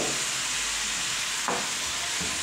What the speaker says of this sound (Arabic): هنا البصل تاعنا هذا يدبل